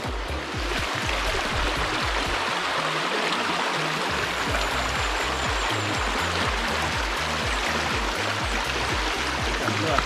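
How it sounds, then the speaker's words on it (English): River water pours from several outlets and streams along in a steady, dense rush that stays loud and close from start to finish, with no voices over it. "You see everywhere you turn there's a different area where water are pour out from."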